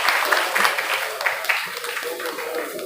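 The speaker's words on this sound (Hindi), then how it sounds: "बच्चे जोरदार तालियों से अभिनंदन करेंगे, स्वागत करेंगे।" A crowd applauds steadily at a welcome ceremony for an international seminar at a college, dense clapping filling the space, with a voice faintly mixed in.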